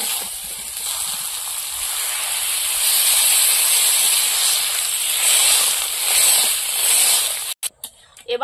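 Water is poured into a hot curry, giving a sustained, loud steaming hiss that holds steady for several seconds, then breaks up into a few clattering knocks near the end.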